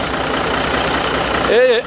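A 1986 Peterbilt 359 truck with a mechanical Caterpillar engine runs with a steady, dense rumble close by. A voice rises over the engine near the end.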